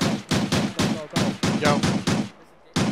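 Machine gun fire in the Arma 3 battle of Hakamäki, loud close bursts of rapid shots with a short pause near the end before the firing resumes, a voice faintly under it.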